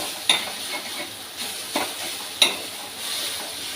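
Mashed brinjal is stirred with oil, salt and chili powder for bharit, giving a low sizzle under several sharp metal ladle clinks against the pan at uneven intervals, close with no voices.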